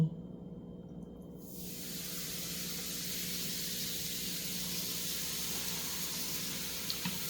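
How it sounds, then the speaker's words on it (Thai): Baking soda fizzing and foaming as liquid is poured over it while cleaning, making a steady broadband hiss that swells after the first second and holds evenly, close and alone. "เวลาเทนะคะ มันก็จะเป็นฟองเนาะเพราะว่ามันเป็นปฏิกิริยาทางเคมี"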